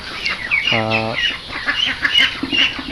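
Chickens and ducks kept at a rural home give a single short, loud honking quack amid scattered clucks and chirps over a busy outdoor background.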